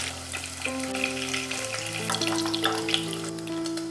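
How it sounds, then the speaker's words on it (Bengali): Paneer frying in oil for a vegetarian paneer biryani, a close, continuous crackling sizzle with steady tonal hums beneath it, no talking. "পনিরগুলো ভেজে নেব।"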